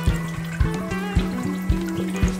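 Drips of water fall from the dripper of a hydroponic aquaponics grow unit fed by a pump, landing in a steady, regular rhythm of roughly four to five drops per second, close and clear over a soft trickling background.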